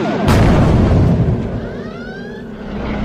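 Phaser fire and explosion sound effects in a science-fiction audio drama: a loud boom with a rumbling wash, followed by sweeping laser-like tones that rise and fall.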